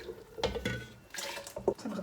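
Hot water poured into a pot of Moroccan harira soup with onion and celery, a short splashing pour with a few distinct bursts over about two seconds, close and moderately loud, no talking.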